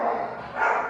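A dog gives a short, close whining howl that swells twice within a second, loud and alone without talk.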